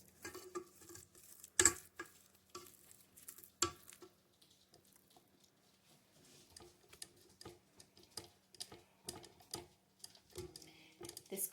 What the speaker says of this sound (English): I'm going to scrape down the bowl very quickly before we add the flour in.